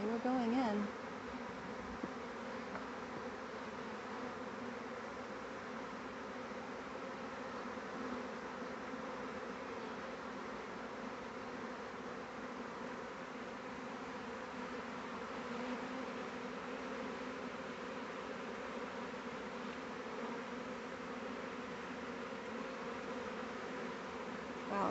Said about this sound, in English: Wow, that was a bigger swarm than we thought.